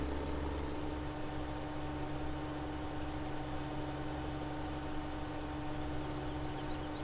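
A tractor engine in the farming game Farming Simulator 17 drones steadily and evenly at a fairly quiet level, with no voices over it.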